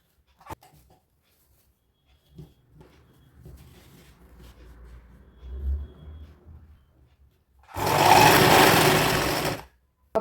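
A sewing machine runs in one loud, steady burst of stitching for about two seconds, sewing gathers onto a girl's frock, after quieter handling sounds and faint rustling.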